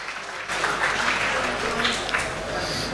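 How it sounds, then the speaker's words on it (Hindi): An audience at a mushaira poetry event in a hotel bursts into applause welcoming poet Sarvesh Asthana, a close, steady clapping that starts abruptly and carries on to the end. "ज़ोरदार तालियों से उनका इस्तकबाल करें"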